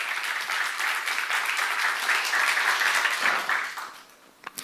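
A church congregation applauding steadily for a few seconds, dense clapping that fades out near the end.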